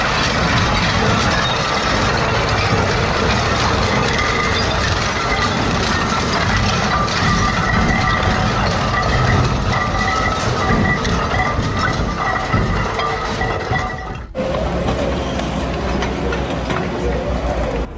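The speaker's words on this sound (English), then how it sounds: "The real brilliance of the Argus 250 is in torque distribution. Each shaft grips, tears, and transfers force smoothly, so even bulky furniture breaks down without choking the system." Argus 250 industrial shredder tearing through scrap and bulky furniture, a loud continuous grinding roar with cracking and crunching that drops abruptly to a lower hum near the end, with no voices.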